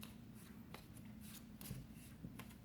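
Tarot cards being shuffled by hand, quiet and close, with soft repeated riffling and sliding rustles and a few sharper flicks, no talking.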